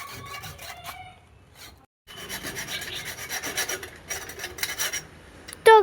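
Metal file rasping against nuts on a water tap, a steady rhythmic scraping in close strokes after a brief pause, ending in a louder squeal.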